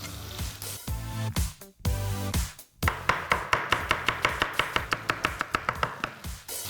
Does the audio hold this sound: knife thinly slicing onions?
yes